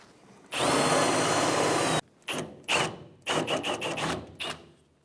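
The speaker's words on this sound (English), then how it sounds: "Now we're going to continue drilling this out" A power drill bores out a rivet head on a 1993-1997 Ford Ranger rear shock mount bracket, first in one steady whining burst of about a second and a half, then in several short, stuttering bursts, close and loud.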